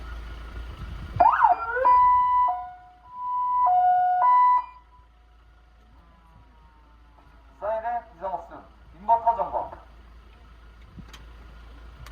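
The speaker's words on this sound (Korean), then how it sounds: "사이렌 점검." An ambulance siren sounds in short test bursts during a routine inspection, alternating two-tone wails and a brief yelp, close and loud, with pauses between tests and speech around them.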